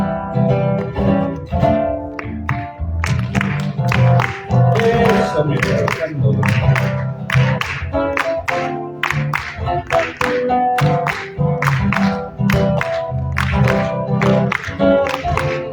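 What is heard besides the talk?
audience clapping palmas to accompany a cueca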